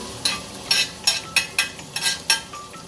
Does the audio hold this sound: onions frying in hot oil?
yes